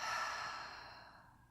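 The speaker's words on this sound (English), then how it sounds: "Open mouth as you exhale out." A single deep open-mouth exhale during a yoga breathing exercise, a soft, breathy whoosh that fades over about a second and a half, close and alone.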